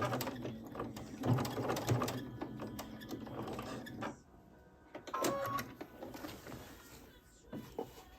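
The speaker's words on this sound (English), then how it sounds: "You're going to sew that elastic down. I go over it several times." A sewing machine stitches elastic down onto a fabric crib sheet in repeated runs, its quick mechanical chatter close, pausing briefly midway before starting up again.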